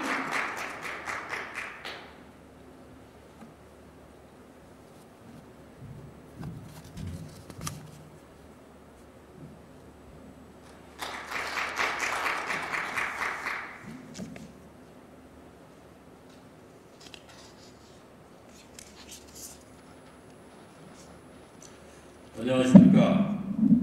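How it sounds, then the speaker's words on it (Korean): Attendees at a regional advisory council training session in Jeonbuk clap in short bursts to welcome the vice-chair to the stage. The applause rises and fades between stretches of an announcer speaking over a quiet hall. "부의장님을 큰 박수로 맞이해 주시기 바랍니다."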